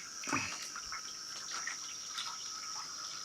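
Water swirling and trickling in a 3D printed blue bowl gold sluice with a pump, a faint close burble and splash with a steady background hum, no voices.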